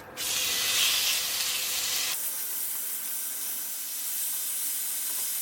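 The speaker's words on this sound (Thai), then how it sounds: "ต่อไปผมจะทอดหมูพูลโกกิเกาหลีครับ" Korean pork bulgogi fries in a pan with a steady, loud sizzling hiss that dips slightly in intensity partway through and then continues evenly.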